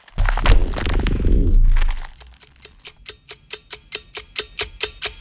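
An egg timer ticks steadily in a tense film scene, about a dozen clear, evenly spaced ticks following a loud rumbling burst of sound at the start.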